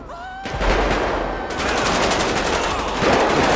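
Automatic gunfire in GTA 5 during a police standoff, a dense burst of rapid shots that starts after a brief pause and keeps going loud and continuous to the end, with a thump at the onset.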